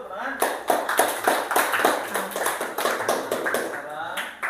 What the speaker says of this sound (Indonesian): Kita berikan aplaus dulu, teman-teman.